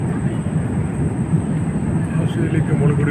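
Steady, loud broadband drone of an airliner cabin in flight over Australia, with constant low rumble and a thin high tone running through the whole stretch, no talk.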